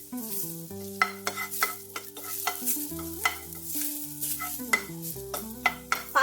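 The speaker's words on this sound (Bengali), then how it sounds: "খুব ভালো করে গ্যাসের ফ্লেমটা লো করে শুকনো খোলায় ভেজে নেব।" Leaves dry-roast in a dry pan over a low gas flame, stirred in repeated scraping strokes with a faint sizzle, close and alone, while a steady tonal hum runs beneath.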